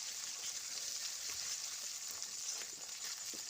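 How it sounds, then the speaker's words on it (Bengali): Ginger paste sizzles steadily in a hot pan during preparation of a mutton curry, a continuous soft frying hiss with a few faint scrapes, quiet and close with no talking. "আদাটা দেওয়ার পর ভালো করে ভাজবো ভেজে নেবো"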